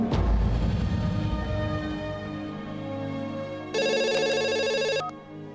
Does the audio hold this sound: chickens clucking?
no